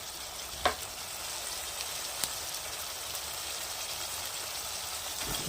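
Spice masala with curd, salt and turmeric sizzles steadily in a kadai while paneer is cooked, restaurant style, a broad hissing fry with a couple of brief clicks from stirring.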